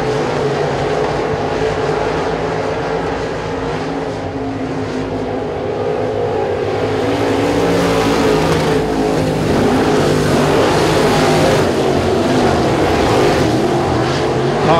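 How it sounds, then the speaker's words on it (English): Race cars roar around the Sabine Speedway oval in a regular weekly race program, a continuous loud, dense engine drone from several cars that holds steady and swells slightly in the second half, with no talk over it. "Cars distancing themselves from each other as Jr. looks to make a bid for the race lead on Jerry Vasco"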